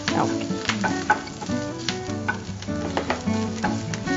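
Steady sizzling of prawn pakoda frying in a pan with curry leaves, green chilli and tomato, with crackles and popping, while something clinks and stirs in rhythmic strokes.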